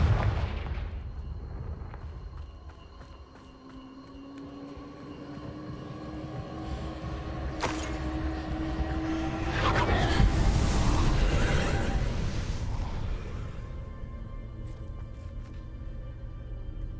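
Confringo spell explosions in a wizard video game roll out as deep, booming blasts over a continuous low rumble, swelling loudest near the middle with a sharp crack partway through and a faint voice now and then.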